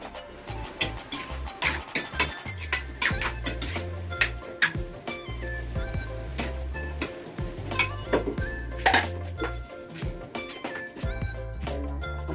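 Pots, pans and metal utensils clink and scrape in quick, irregular taps during home cooking, close and bright, over a low humming background with faint talk.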